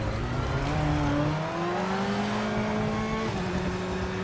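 A racing car engine in the video game Project Motor Racing revs up with rising, whining pitch, drops back, then climbs again, loud and close with a gritty roar.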